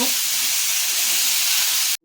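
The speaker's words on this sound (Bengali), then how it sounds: "ঝিঙের সঙ্গে আলুগুলোও দিয়ে দিয়েছি, আলুগুলো দিয়েও ভালো করে একটু নেড়ে ভেজে নিচ্ছি" Ridge gourd and potato pieces frying in oil in a pan for a vegetarian Bengali curry, giving a constant close hiss of sizzling that stops abruptly near the end.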